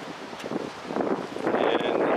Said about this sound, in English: a little windy all of a sudden out here at the beach